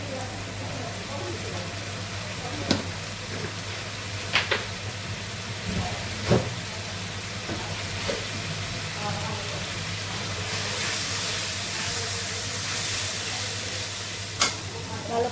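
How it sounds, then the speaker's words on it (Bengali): Spice masala frying in a pan, a steady close sizzle and hiss with occasional sharp scrapes and knocks of a spoon as it is stirred, under a low constant hum. "মশলাটা কষিয়ে নিব"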